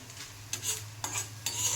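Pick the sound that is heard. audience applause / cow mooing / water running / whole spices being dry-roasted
whole spices being dry-roasted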